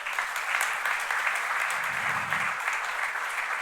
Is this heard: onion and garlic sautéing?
no